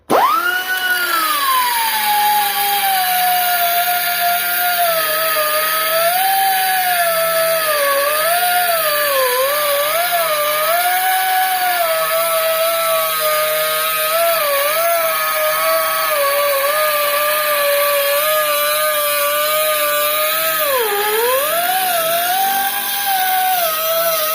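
Harbor Freight die grinder with an arbor fitted, running continuously for the whole stretch with a loud, steady high whine whose pitch wavers and dips under load, no talking.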